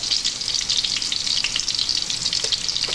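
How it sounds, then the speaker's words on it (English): Ginger and garlic sizzle loudly in hot oil in a pan, a steady bright crackle with small pops and bursts throughout, close up and with no talking. "Just spin that around in a nice hot oil there"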